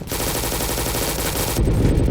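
Rapid automatic gunfire in the Roblox game RECOIL, loud and continuous, with a heavier burst of shots near the end.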